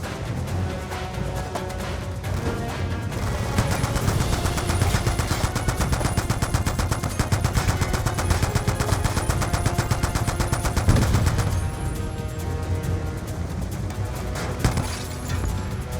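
Rapid, dense machine gun fire in the video game Call of Duty Black Ops 2 during a barge fight with gunboats, loud and continuous throughout with layered bursts and crashing impacts.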